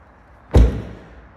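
One solid, heavy thud as the near side rear door of an Audi S3 Sportback is shut, close and loud, with a short decay into quiet.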